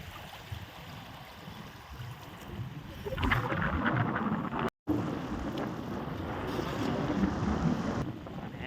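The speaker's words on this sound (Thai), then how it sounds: "ลมแรงมาก" Strong wind blows at sea off Bang Phra during shellfish gathering. It makes a steady, loud, rushing roar that buffets the microphone, with a brief cutout partway through. There are hints of water and movement under the wind.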